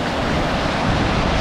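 Ocean surf at Byron Bay beach, a steady broadband wash of breaking waves mixed with wind buffeting the microphone, loud and continuous with no talking.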